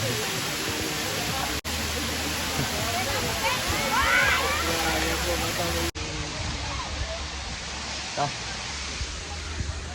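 Water pours and splashes steadily from a makeshift waterfall at a campsite, a close, dense rushing sound with voices talking over it.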